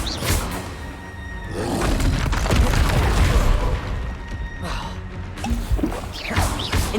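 The Expelliarmus spell cast in Hogwarts Legacy, a forceful magical blast with crashing, rumbling effects that swell and fade over several seconds, loud and close amid busy combat noise.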